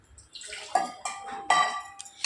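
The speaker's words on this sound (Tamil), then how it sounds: "மிக்ஸியில் இருக்கிற தண்ணியை ஊற்றியாச்சு." Water poured from a mixer jar into a pan while making onion chutney, with close splashing, pouring and clinking of metal over a couple of seconds.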